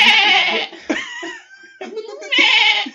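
A human voice imitates a goat, letting out loud, shaky bleating cries in two long bursts. Short vocal noises and breathy sounds fall in between, close to the microphone.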